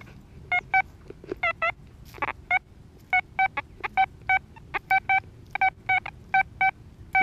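Repeated beeping tones from an XP Deus metal detector signalling a large target, a rapid run of short, evenly spaced pulses, fairly close and clear over low outdoor rumble.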